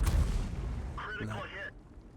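A tank gun firing in a tank combat video game, a single heavy boom at the start that fades into a rumbling tail, with brief voice-like sounds over the decay.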